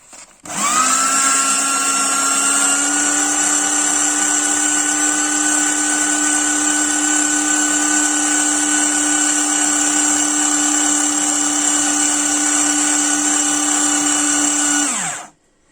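Electric paper shredder running steadily for about fifteen seconds, a loud whining motor hum with a steady high pitch that starts abruptly and cuts off at the end, with no voices.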